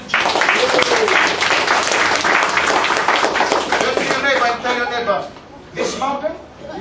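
Church congregation clapping hands together in a loud, dense burst of applause that carries steadily, thinning toward the end, with voices mixed in.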